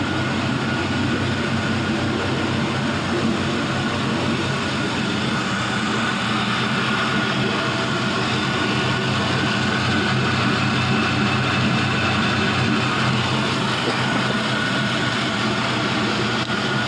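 LS 5.3L V8 engine idling steadily at about 700 RPM, a continuous low rumble running alone throughout without talk.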